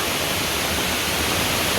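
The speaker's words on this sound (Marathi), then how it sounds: "इतकं पाऊस जोरात आहे ना" Dense, steady roar of heavy rain and rushing floodwater, loud and close, unbroken throughout.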